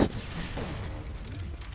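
Akimbo FMG9 fire in Call of Duty Modern Warfare 3 multiplayer: dense, fast rattling gunfire from a pair of submachine guns, continuous and busy with booming game effects throughout, no talking.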